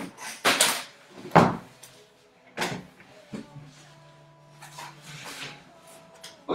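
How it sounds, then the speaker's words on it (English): An indoor door is shut during preparation for an online fitness class, heard as a few sharp knocks and thuds spread over several seconds with quieter handling sounds and faint background tones between. "should we shut the door?"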